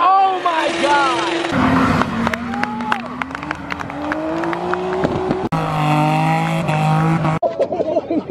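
Drift car revving hard and accelerating around a rain-soaked track at a drift competition, engine pitch sweeping up and down in bursts with tire noise and crowd sound, loud and close.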